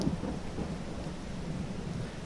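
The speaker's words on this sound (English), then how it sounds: "Okay, it is July. It is raining." In Farming Simulator 22, a July rainstorm brings a steady hiss of rain over a deep, rolling rumble of thunder that swells at the start and then settles into a continuous low roar.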